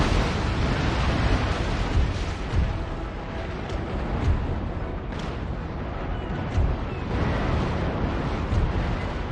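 Naval cannons fire from sailing warships in an Empire: Total War sea battle against Swedish ships, with scattered booms and distant blasts over a dense, rumbling roar of battle noise.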